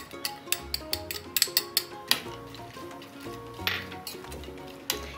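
Nuts and almonds tumble into hot ghee in a pan for payasam, giving a string of sharp clinks and taps over a steady sizzle, with soft tonal music running underneath.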